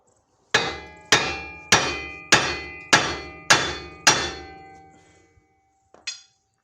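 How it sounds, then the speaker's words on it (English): A hammer strikes the wheel bearing hub on a Nissan Pathfinder six times in a steady rhythm, each loud metallic clang ringing out, followed by a lighter final tap. "So you can give it a few whacks,"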